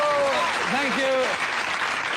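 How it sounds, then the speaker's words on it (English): Audience applause from a played comedy clip runs as a steady wash of clapping, with voices calling out over it. "Stop clapping."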